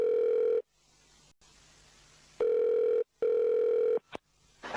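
A telephone call to a taxi company rings: three long steady ringback tones separated by silences, clear and close, with no talk.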